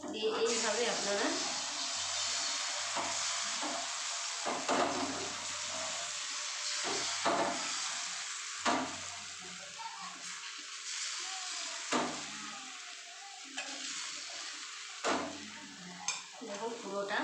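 Egg omelette batter sizzles in a pan, a continuous close frying hiss with scattered spatula scrapes and taps, while someone talks intermittently over it.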